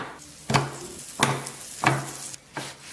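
Oiled griddle pan with a flipped flatbread, giving a steady low sizzle and four sharp scrapes or taps about every 0.7 seconds as the dough is pressed and handled.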